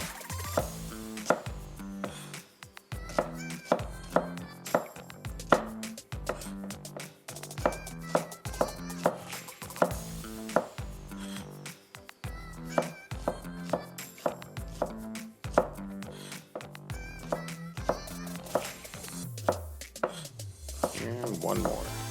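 A knife chops a shallot on a cutting board in quick, sharp, rhythmic strikes, fast bursts repeated many times close up, with faint talk now and then.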